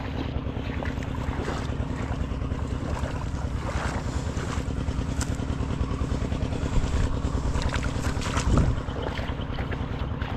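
A small engine-driven water pump runs steadily outdoors while calamansi trees are irrigated by hose. The loud, close engine chugs in a fast, even rhythm, with wind buffeting the microphone and no speech.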